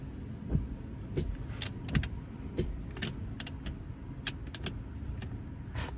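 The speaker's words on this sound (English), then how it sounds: "See if my wipers still work." Windshield wipers on a PT Cruiser sweep back and forth, a low rhythmic thump about every half second under faint car hum, with light ticks and clicks scattered throughout.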